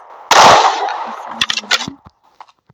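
Video game weapon gunfire from a gun mod: one loud close burst of shots, followed by a scatter of sharp mechanical clicks and small taps that fade to near silence.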